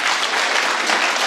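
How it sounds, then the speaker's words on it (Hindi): Audience applause at a Hindi-Urdu poetry gathering (shayari sammelan), a steady, dense wash of many hands clapping together throughout, fairly loud and unbroken. "मैं चाहता हूँ एक बार जरूर ताली बजाते हैं आप"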